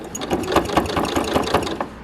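A sewing machine stitches a car mat in quick, rhythmic bursts of needle clatter, close up and moderately quiet, running continuously for a couple of seconds.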